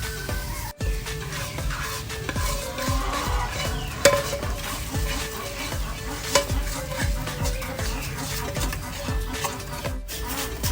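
Fried lemongrass is tipped from a pan into a metal strainer, with continuous oily sizzling, repeated metallic scrapes and clinks of utensils against cookware, and a few sharper knocks, all close by.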